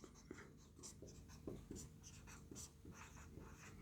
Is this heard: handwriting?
yes